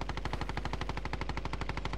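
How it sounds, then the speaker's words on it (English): Rapid automatic gunfire in Call of Duty: Modern Warfare, a steady stream of evenly spaced shots rattling off in a continuous burst, fairly quiet in the mix with no talk over it. "Someone's shooting him"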